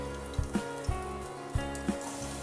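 Asafoetida hits hot oil in a pan for a Shahi Urad dal tadka, a soft, steady crackling sizzle with a few faint pops, low in level and with no talking.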